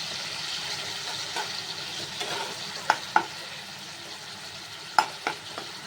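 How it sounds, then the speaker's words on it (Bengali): Grated ginger stirred and sautéed in a pan with tomato and green chilies: a steady soft sizzle under occasional sharp spatula knocks against the pan, close and without speech. "নাড়িয়ে নিচ্ছি।"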